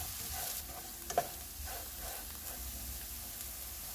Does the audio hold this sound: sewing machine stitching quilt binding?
no